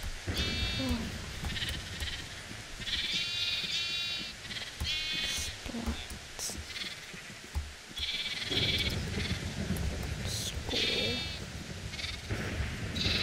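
Sheep bleat repeatedly in short wavering calls, several overlapping at moderate distance, with quiet gaps between bursts and no talking.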